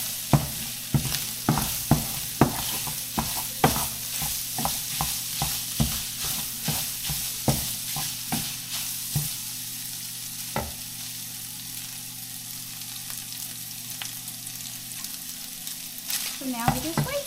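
Sausage frying in a pan while being stirred, with a steady sizzle under repeated scraping strokes of the utensil at an even rhythm that fade out after about ten seconds.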